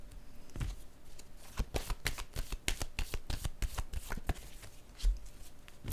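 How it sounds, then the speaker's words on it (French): Tarot cards are shuffled by hand in a quick, irregular run of crisp riffles and slaps, close and fairly quiet, with no voices. "je vais piger une autre carte."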